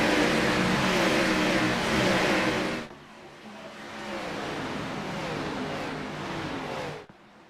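A field of race cars roars away at the green flag start of an All American Racing League race at Dover Motor Speedway, loud engines blaring and sweeping past as one dense wall of revving before dropping off.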